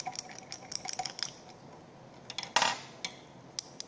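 A utensil stirs salt solution in a glass container, with quick light clinks and tinkles against the glass, a brief louder swirl of clinking midway, then a few more scattered taps.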